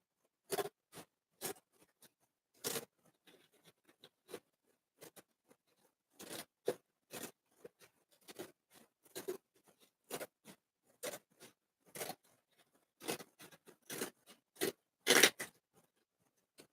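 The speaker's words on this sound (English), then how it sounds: "we're gonna cut one more little piece over here" Scissors snipping a small piece of material for a life-sized animatronic endoskeleton prop, sharp close cuts in irregular clusters with quiet pauses between, no talking.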